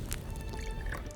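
A shot of water poured into a small glass, giving a brief, soft liquid trickle and drip in a moderately noisy room, with no talking over it.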